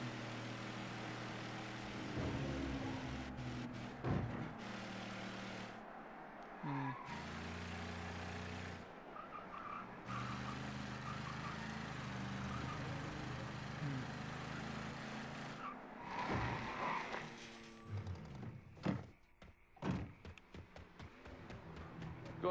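A car drives in the Mafia III video game, its engine droning steadily at a moderate distance with gear shifts and revving changes, while brief speech-like sounds and skids break in near the end.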